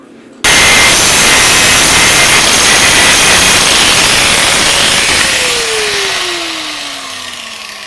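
A press forming Kevlar military helmets runs with a loud, steady mechanical roar and broadband hiss that starts abruptly, holds for several seconds, then eases off as a falling whine winds down near the end.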